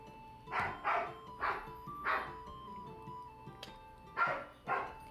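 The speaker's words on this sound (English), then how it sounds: "So the dog sounds, because I adopted a dog recently" A puppy named Stella barks indoors in a room, about six sharp, moderately loud barks spaced irregularly across the stretch, with quiet gaps and a faint hum between them.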